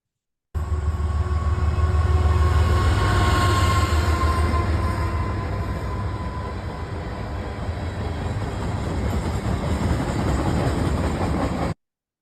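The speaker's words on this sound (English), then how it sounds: "the train actually runs right through my backyard" A train rolls past right behind a backyard, its loud, continuous rumbling and clattering holding for about eleven seconds before cutting off. No one speaks over it.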